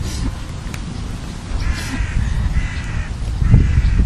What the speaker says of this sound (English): The crow has a question.